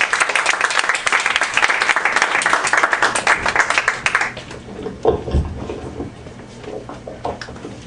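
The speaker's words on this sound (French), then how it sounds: "On l'applaudit encore une fois, mesdames et messieurs." An audience at an evening stage show applauds a performer, with dense clapping that thins out midway into scattered claps and a few louder bursts.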